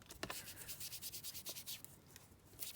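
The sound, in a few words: inking a paper envelope by rubbing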